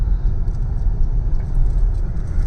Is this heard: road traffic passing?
yes